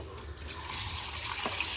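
Dark, dirty water from washing a rental home's carpet being emptied out, heard as a steady close splashing pour with no voices.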